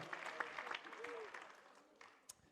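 An audience at a live stand-up comedy show bursts into scattered applause and clapping, fairly distant and fading over a couple of seconds.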